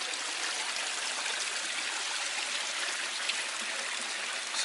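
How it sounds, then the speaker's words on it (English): Water pouring steadily into a garden pond lined with stones, a continuous close splashing rush with no pauses and no voices. "We're putting some more water in it."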